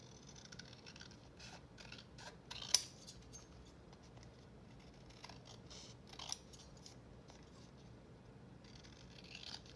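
Scissors trimming excess white paper from the edges of junk journal garden cards made from book pages, giving a few quiet, sparse snips, with a sharper cut near the start and another later, in a faint, otherwise still room.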